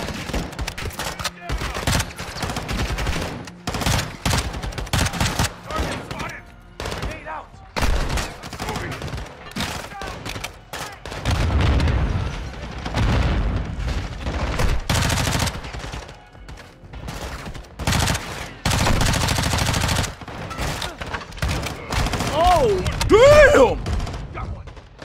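Call of Duty Modern Warfare II campaign combat with bursts of rapid automatic gunfire and single shots in repeated volleys, loud and close, mixed with in-game shouting voices.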